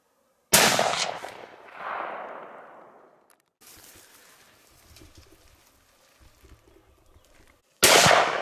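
A single loud, sharp rifle shot cracks out on a bear hunt and rolls away in a long fading echo. Quiet outdoor ambience with faint birds follows, then another abrupt loud burst near the end.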